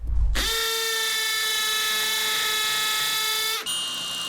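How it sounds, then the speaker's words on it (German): A drill bores into sand-lime brick in drilling mode, a steady high-pitched whine with a constant tone running loud and close for about three seconds before cutting off abruptly. "wir bohren jetzt mal in Stein"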